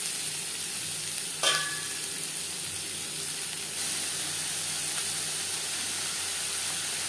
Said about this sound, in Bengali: 2 চামচ রিফাইন্ড অয়েল গরম করে নেওয়ার পর সবার প্রথমে দিয়ে দেবো পেঁয়াজ কুচি